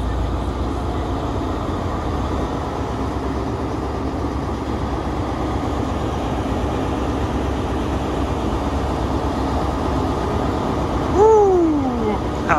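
A diesel HST train engine in the Train Sim World video game drones steadily at close range, a continuous heavy rumble, with a short rising whine near the end.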